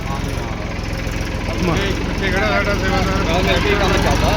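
A tractor engine runs steadily nearby during a sand-bag service job, its low idling throb continuous throughout and growing slightly louder, with people talking over it.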